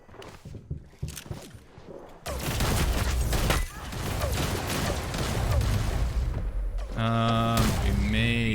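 Gunfire in the shooter game Hyper Scape rattles in dense bursts that swell loud after a quieter opening, with electronic interface tones near the end and a voice talking over it.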